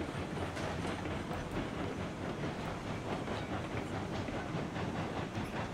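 A steam train in the game RailRoads Online labouring slowly uphill, giving a continuous, dense rumble with rhythmic chuffing and clattering wheels, heard loud and steady throughout.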